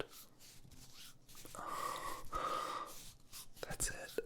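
Slow, relaxed breathing sounds close to the microphone in a soft ASMR setting, airy inhales and exhales with faint whispery texture and gentle pauses.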